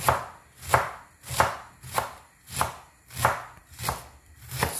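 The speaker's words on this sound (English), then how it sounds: "So that's how we are going to cut all our cabbage." A knife chops through cabbage for coleslaw on a cutting board in a steady rhythm of about eight crisp, close strokes with no talking.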